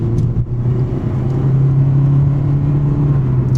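Engine of a 2025 Toyota Prius AWD pulling hard out of a corner, a loud steady mid-pitched drone with a rising harmonic hum, heard from inside the cabin without talk.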